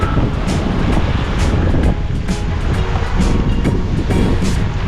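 Strong wind and breaking waves on the Adriatic shore at Vodice, Croatia, a loud continuous roar of surf with gusts buffeting the microphone and repeated wave crashes.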